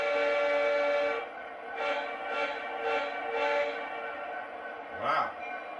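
Horn on a Lionel Legacy SD70ACE model diesel locomotive honks in about four short bursts after a steady opening tone, with a later brief squeal, fairly close and loud with no talk.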